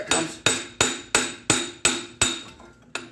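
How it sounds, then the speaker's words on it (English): Sharp metallic hammer blows on a punch driving out a shock absorber on a 2003 Dodge Ram 3500 dually, eight evenly spaced loud strikes, each ringing briefly before the next, with no talking. "we could just get a punch and a hammer"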